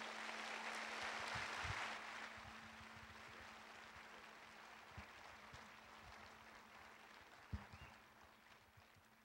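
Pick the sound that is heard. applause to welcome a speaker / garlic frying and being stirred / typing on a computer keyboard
applause to welcome a speaker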